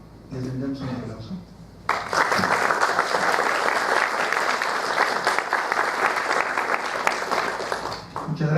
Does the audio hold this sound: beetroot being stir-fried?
no